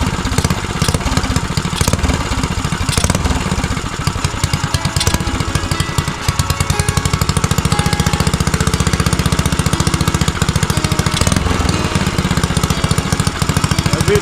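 Small engine of a custom Motovox mini bike idling, a loud, steady, close chugging rumble with a rapid pulsing beat that holds throughout without pause.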